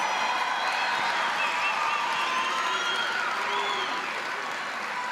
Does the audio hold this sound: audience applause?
yes